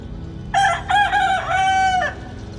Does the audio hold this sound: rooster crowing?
yes